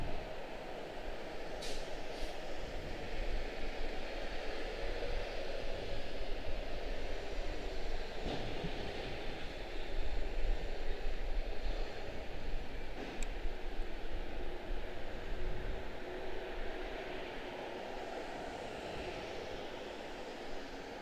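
A 13-year-old airliner built in 2012, arriving as Flight 72 from Zurich at Washington Dulles, gives a steady broad engine roar that holds at a constant level for the whole stretch, with no voices.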